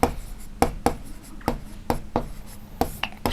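A pencil writes on paper with quick, close strokes and taps in an irregular rhythm, each mark a short scratchy burst.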